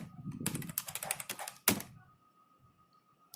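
Typing on a computer keyboard to enter a date: a quick burst of close, crisp key clicks, then one sharper louder strike, followed by quiet.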